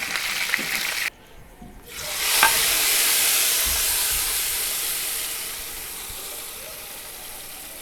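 Slit green chilies rubbed with salt sizzle and spit in hot oil in a pan, a steady bright hiss that swells after a brief quieter moment and then slowly fades.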